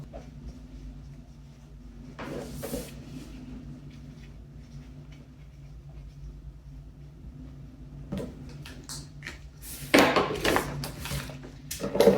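Plastic lids being set onto seed containers, giving light knocks and clacks with quiet handling between them and a louder cluster of taps near the end.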